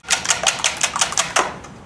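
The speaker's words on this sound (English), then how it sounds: "we'll just simply whisk that together until it is well beaten" Eggs and skim milk whisked together in a stainless steel bowl, heard as a quick run of regular, close, bright clicking strokes of the whisk against the bowl with no talk.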